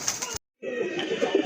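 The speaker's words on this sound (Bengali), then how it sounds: "একটা পেয়ার আছে লাহোরি কবুতরের মাশাআল্লাহ রেড কালারের ভিতরে" A pair of red Lahori pigeons coos in short, close bursts, broken by a brief pause, with a faint voice nearby.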